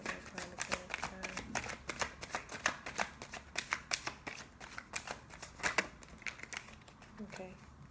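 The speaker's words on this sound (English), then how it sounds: "Ooh, okay, too many cards. Let's take one card to clarify." Tarot cards being shuffled by hand in a steady run of rapid riffling, flicking bursts, close and crisp, with a voice speaking faintly at moments.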